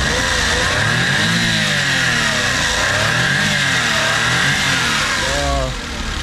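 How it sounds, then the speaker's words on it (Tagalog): A small car's K6A engine revs loudly and steadily up and down several times, its pitch rising and falling in a repeated, close-up pattern. "ito yung makina natin is a K6A engine."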